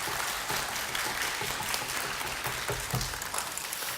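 Audience applause at a children's composer recital, a full, steady round of many hands clapping close by with a few louder individual claps standing out.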